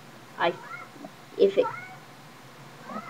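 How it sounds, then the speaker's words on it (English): A cat meows several times nearby, a few separate drawn-out cries with short pauses between them. "now one of my cats meowing"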